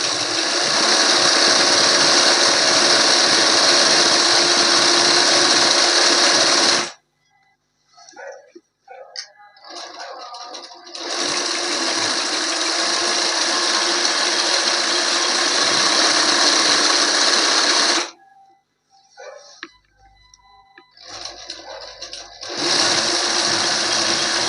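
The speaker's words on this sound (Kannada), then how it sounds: "ಇದು ಕೂಡ ನಾರ್ಮಲ್ ಸ್ಟಿಚಿಂಗ್ ಮಷಿನ್ ಥರನೇ" Sewing machine stitching embroidery on a hand-turned frame, loud and close, running in three long steady whirring bursts separated by short pauses filled with faint handling noise.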